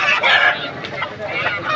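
A rooster at a Vijayawada rooster market, a bird about 22 inches tall and about 3 kg, gives short, close, loud clucking calls in two bursts.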